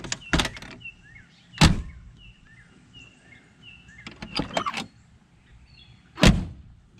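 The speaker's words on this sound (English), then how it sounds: "And the doors close real nice on the car." Doors on a 1968 Ford LTD Country Squire station wagon shut with several solid, loud thuds spread across a few seconds, while birds chirp faintly in the background.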